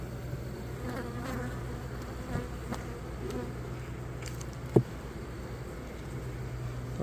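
Honeybees buzz steadily around working hives outdoors, a continuous droning hum close by, with a few louder passes as individual bees fly near, and no talking.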